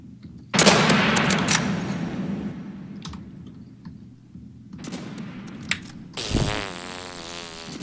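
Rapid bursts of gunfire from a gold gun in the Roblox shooter Call Of Robloxia, a dense crackling volley at the start, scattered sharper shots later, and a short electronic buzz near the end.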